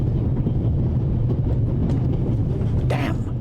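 Steady low rumble of a train rolling along rails inside a video game, constant and close throughout, with a brief brighter metallic swish near the end.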